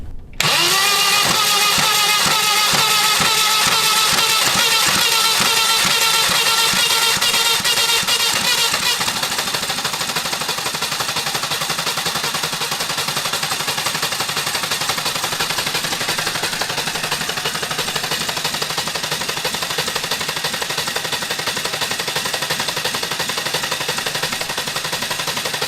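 A retired military generator engine cranks and catches, then runs loud and rough at a fast, even chugging pulse, close up with no talk over it.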